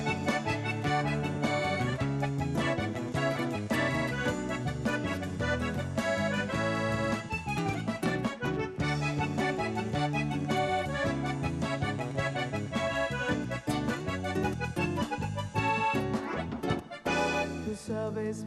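A university orchestra playing a serenade, a sustained, full ensemble passage with rich harmonic layers that continues throughout at moderate volume.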